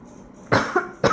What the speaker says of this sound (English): Sorry, I need to cough.